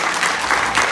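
Audience applause for a DJ being introduced at a school event, a brief, loud, continuous wash of many hands clapping together.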